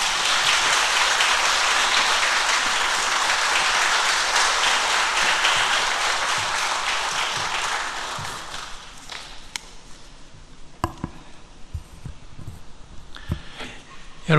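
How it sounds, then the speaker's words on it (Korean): A church audience at a Wednesday prayer service gives a church elder long, dense applause to welcome him, loud and sustained for about eight seconds before thinning into scattered claps, taps and small knocks. "나오실 때 큰 박수로 맞이해 주시면 고맙겠습니다"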